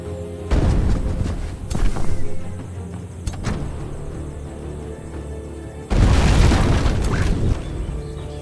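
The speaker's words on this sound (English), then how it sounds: "And they're nicely lined up for our cannon now." Cannons fire in the fantasy strategy game Age of Wonders 4, two heavy booming blasts with long rumbling tails, loud and separated by a few seconds of quieter battle noise.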